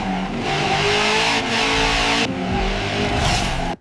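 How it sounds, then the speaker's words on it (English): Two cars racing down a street at night, loud engines roaring and revving continuously with gear shifts and a rising whine, close and dominant until an abrupt cutoff. "it's a night scene, two cars racing down the street"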